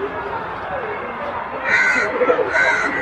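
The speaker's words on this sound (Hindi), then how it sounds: "कौवा भी मछली खाने आया है।" A crow at Alipore Zoo in Kolkata, inside a bird enclosure, gives a couple of short caws partway through, heard over a steady background of crowd chatter and nearby talk.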